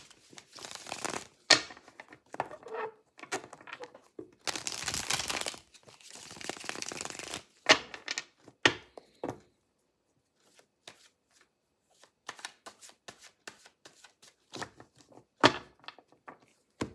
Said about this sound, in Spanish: Tengo que barajar varias veces para poder canalizar la energía de forma adecuada.